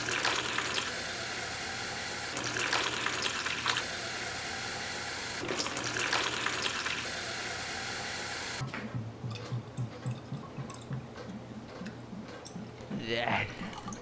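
Water pours from a tap into a bottle in a steady rushing stream, broken by short gaps, then gives way to quieter drips and sloshing, with a voice speaking over part of it.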